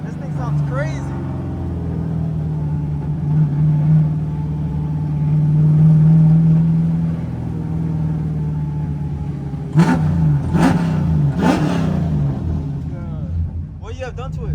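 A drift car with an LS3 6.2-liter V8 revs at a car show, its engine droning loudly and steadily, then rising in a few sharp bursts near the end while voices talk over the noise.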